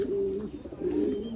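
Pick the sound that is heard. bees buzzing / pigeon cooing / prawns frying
pigeon cooing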